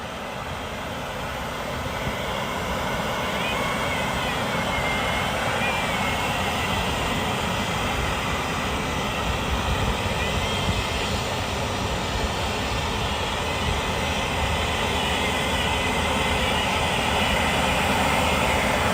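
A snowblower runs continuously while blowing dry leaves outdoors, a loud, steady engine roar with a rushing, gritty blast that holds for the whole stretch after a brief quieter start.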